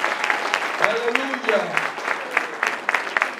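Church congregation clapping in rhythm with praise, a steady run of sharp claps under a voice exclaiming and a low sung tone, moderately close.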